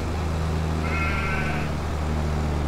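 A sheep in a farming video game's enclosure lets out a single short wavering bleat over a steady low background hum, with no talking.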